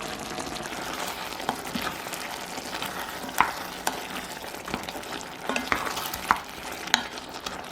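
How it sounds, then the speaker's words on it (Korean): Bay leaves, basil powder and chili powder being stirred into a simmering pot of tomato stew, with steady scraping and light clinks of a utensil against the pot over a soft bubbling sizzle, close and without talk. "월계수잎, 바질가루, 고춧가루 넣어 대강 섞어주세요."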